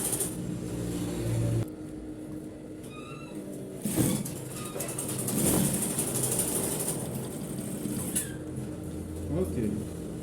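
A sewing machine stitches down a pocket flap on a suit's double welt pocket, its motor whirring in steady runs that stop and start, with a voice talking in between.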